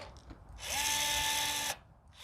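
A powered rivet tool setting 3/16 by 3/8 aluminum rivets during a cargo trailer awning install: one short, close mechanical whirring burst of about a second, rising and then cutting off sharply, set against a quiet background.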